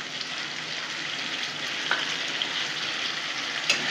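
Pointed gourd coated in a paste of poppy seeds, sesame and green chili is stir-fried in a pan, giving a steady, close sizzle with a couple of soft scraping stirs and no voices.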